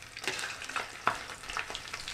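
Small salir fish fry in hot oil in a pan, a steady dense sizzle with occasional sharper pops and spits, close and continuous with no talk.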